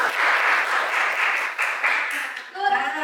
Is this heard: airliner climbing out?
no